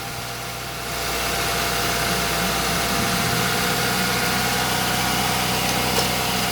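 A Mazda 323F engine idles steadily with a deep, constant rumble and vibration. The sound is close and even, and it swells slightly after the first second before holding at a continuous level.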